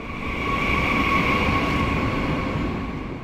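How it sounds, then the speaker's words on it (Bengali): A train starts and gathers speed at a lonely station, its steady broadband rumble swelling slightly with thin whining tones on top, heard alone with no voices. "স্বপনবাবু দেখে ট্রেনটি আস্তে আস্তে জোরে চলতে শুরু করে"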